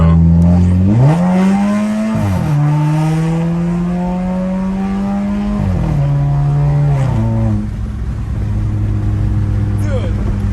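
A Volkswagen Jetta 1.8T engine fitted with a CTS turbo downpipe exhaust revs up hard and holds a loud, throaty drone, with a few sharp drops and climbs in pitch as the throttle changes.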